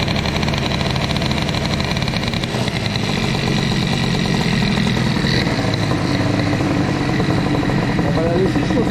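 Moped engine fitted with an Airsal CPI 70 kit and BOOST bottom end, running on choke with a lean carburettor setting: a loud, close, continuous buzzing idle that holds steady, with a voice heard over it.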